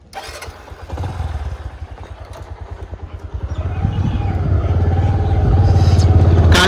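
A motorcycle engine starts up and runs nearby, its putter rising into a steadier, louder idle and rev toward the end.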